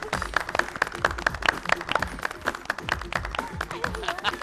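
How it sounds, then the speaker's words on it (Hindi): A studio audience claps steadily at a televised Hindi anniversary show, dense, loud applause running throughout with voices and music mixed underneath. "ताली बजा।"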